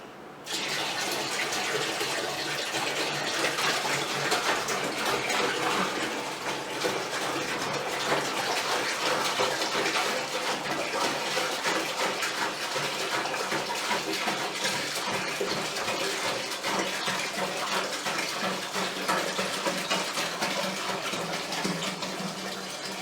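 Liquid pouring steadily into a home-brew beer fermenter for a Muntons Cerveza kit, a continuous close gushing splash that runs unbroken and fairly loud for the whole stretch.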